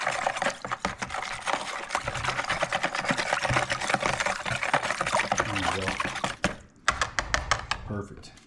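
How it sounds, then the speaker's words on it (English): A whisk beats venison jerky marinade in a bowl, a dense steady clatter of rapid scraping strokes that runs close and loud for several seconds before a short break and a final few strokes. "And whisk that stuff up real good."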